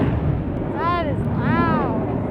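A loud airplane at the EAA air show roars past in two sweeping passes, its engine tone rising and falling, heard through wind buffeting on the microphone.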